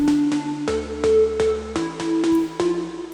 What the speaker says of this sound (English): And that's all that organ sound is.